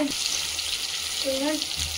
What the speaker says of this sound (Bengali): আলুগুলোকে ভালো করে ভেজে নেব।